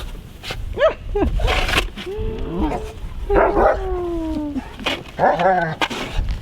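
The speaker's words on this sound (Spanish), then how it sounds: "Qué perro malo que tenemos en la casa" A dog outdoors in Canadian snow, playing with a shovel, lets out a series of whining, howling yelps and short barks in irregular bursts, close and fairly loud, with voices talking in between.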